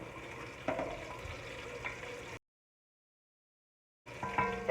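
Onions cooking in olive oil in a pan give a low, steady sizzle, interrupted by a brief silent gap before the frying resumes slightly louder.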